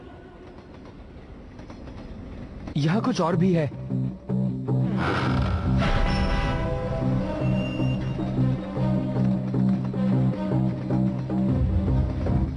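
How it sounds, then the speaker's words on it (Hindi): The Slugterranean Express, a cartoon train in a cave, rumbles in loud and close with a rising mechanical whine and a steady clattering roll that continues under speech. "ये तो स्लगटेरेनियन एक्सप्रेस है, और ये इस गुफा में क्या कर रही है?"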